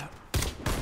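Two sharp bursts of video game gunfire crack out close and loud in quick succession, with no talk over them.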